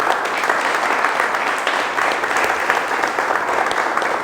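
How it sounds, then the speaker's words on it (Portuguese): Dense, steady applause from a large audience at a graduation celebration, a continuous wash of many hands clapping at constant loudness with no break. "Você pode aplaudir Jesus pela vida dele?"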